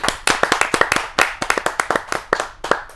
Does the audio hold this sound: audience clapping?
yes